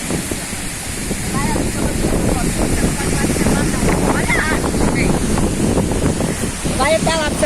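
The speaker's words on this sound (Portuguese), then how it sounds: "O vento está me jogando até para trás." Strong wind buffets the microphone at the Cachoeira da Jibóia waterfall, a loud continuous rushing roar of air and falling water, close and unbroken, with someone speaking intermittently over it.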